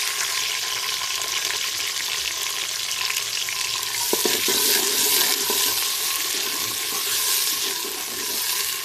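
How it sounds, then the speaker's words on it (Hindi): Onions fry in hot ghee with a loud, continuous, close sizzle and hiss, broken briefly by a couple of faint clinks from a utensil midway. "घी गर्म हो गया तो इसमें प्याज ऐड कर दूँगी"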